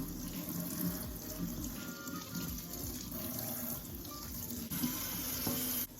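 Tap water runs steadily while shampoo is rinsed out of 10-month comb-coil locs, a continuous close splashing wash with no talk.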